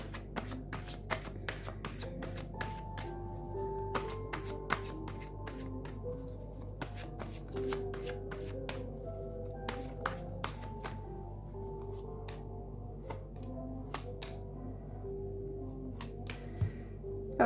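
Tarot cards being shuffled close up in a long continuous run of crisp riffles and soft slides, sharp flicks punctuating the shuffle, with no one talking.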